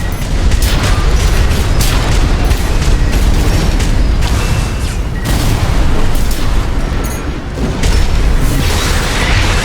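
Loud, dense gunfire and heavy explosions from Armored Core 6 mech combat, continuous booming bursts with mechanical clatter and almost no pause.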